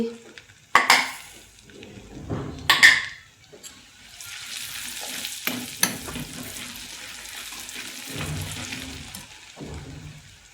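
Paneer bhurji with chilli fries in a pan, a couple of sharp utensil knocks giving way to a steady close sizzle with intermittent stirring scrapes and clinks, no speech.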